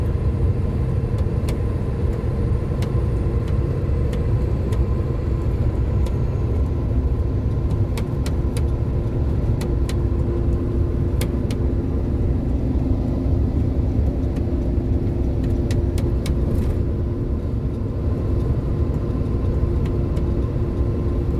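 A convoy of cars travelling on a highway toward Hubli and Belgaum, with steady road and engine rumble filling the clip throughout, fairly loud and continuous, with no voices.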